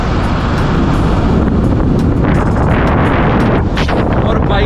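Heavy, constant wind buffeting on an open motorbike ride on a very cold day, loud and steady throughout, roaring broadband rush with no other sound standing out.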